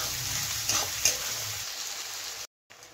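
Onions frying in sesame oil, a soft, close sizzle with a couple of stirring scrapes, then a brief dropout before the sizzle resumes.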